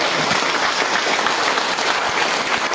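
Dense, steady clapping from a seminar audience, a continuous wash of many hands at close range, loud and unbroken, with no talk over it.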